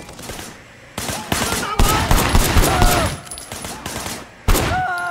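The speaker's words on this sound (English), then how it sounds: "firing shots from the passenger window." Sharp gunshots fired from a car's passenger window ring out in loud, uneven bursts separated by short gaps, with voices and engine noise mixed in.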